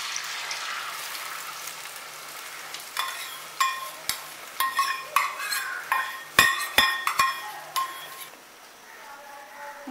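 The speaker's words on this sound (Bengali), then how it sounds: "এবার আমি ডিমের অমলেটটা করে নেব" Beaten egg frying as an omelette in white oil in a wok, Kolkata street-style egg chowmein: a soft sizzle under a series of sharp metallic scraping and tapping strokes of a spatula.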